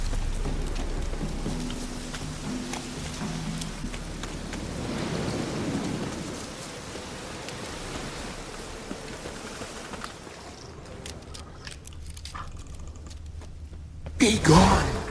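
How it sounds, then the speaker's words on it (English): Steady rain falls in the fantasy game The Witcher 3: Wild Hunt, a dense hiss running throughout with low rumbling like distant thunder, easing toward the end before a brief louder burst, and some voices mixed in. "Looks like rain."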